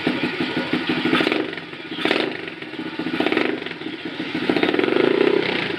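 Stomp 120cc pit bike engine idling with a clattering mechanical tick, punctuated by several short, sharp throttle blips that rise and fall quickly, close by and fairly loud, with no talking.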